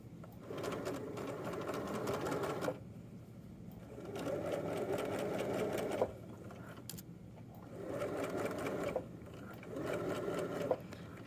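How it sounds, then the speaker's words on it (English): A sewing machine stitches the side seam of knit joggers in repeated bursts of rapid mechanical whirring, each running a couple of seconds with short pauses between, close and clear. "I will continue sewing down the whole leg of my pants."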